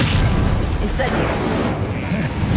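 Incendio fire spell cast in Hogwarts Legacy, a loud whooshing burst of flame with booming rumble, continuous and close, without speech.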